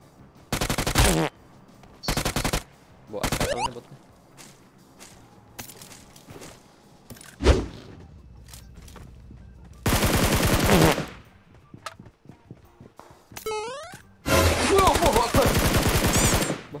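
Automatic gunfire in the mobile battle royale game PUBG Mobile, with several loud bursts of rapid shots separated by quieter gaps holding footsteps and faint game noises.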